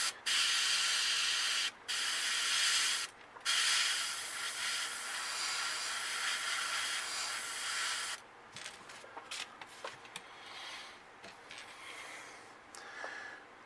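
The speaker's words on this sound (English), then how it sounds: "I'm going to spray an outline of the gill and then hit the tip of it with black" Airbrush hissing paint onto a bluegill crankbait lure, with steady sustained bursts broken by brief pauses, then shorter intermittent spurts as the spraying tapers off; close and fairly loud, no talking.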